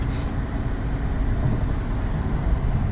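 A Dodge Charger fitted with a cold air intake drives along, giving a continuous low engine and road rumble heard from inside the car, steady throughout with no talking.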